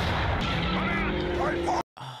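Tank gunfire from the war film Fury, heavy continuous booming blasts filling the scene before cutting off abruptly, with voices talking over it.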